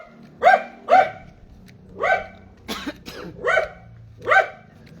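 A stray dog suspected of rabies barking in a neighbourhood: six sharp, close barks spaced about half a second to a second apart, with no talking between them.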